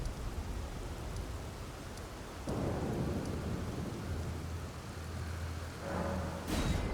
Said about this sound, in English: Did I hear rain?